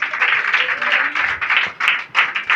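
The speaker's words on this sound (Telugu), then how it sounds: "చప్పట్లు కొడదామా?" Congregation applause during a Telugu church sermon by a pastor, a sustained wash of many hands clapping with uneven swells, close and fairly loud, no talk over it.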